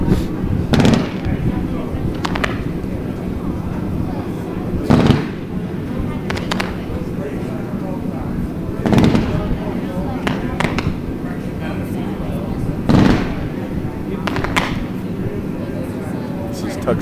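Hot Rocket Class C consumer fireworks bursting outdoors, a series of sharp explosive pops roughly every few seconds over a constant background hiss and crackle, with voices audible underneath.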